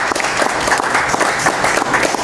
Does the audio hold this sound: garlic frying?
no